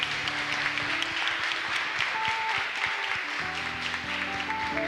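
A church congregation applauds during a family worship service, steady clapping continuing throughout amid a lively room with music-like tonal sounds beneath.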